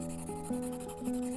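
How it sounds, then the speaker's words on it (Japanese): A pencil lead scrapes back and forth on sandpaper in a steady, close rubbing rasp with slight rhythmic pulses and no talk. "そういう時は紙やすりを使ってみてください。"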